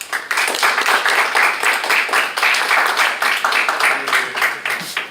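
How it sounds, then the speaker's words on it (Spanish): Applause from an audience at a lecture or panel discussion, dense steady clapping filling the whole stretch at moderate loudness. "Un aplauso también para él"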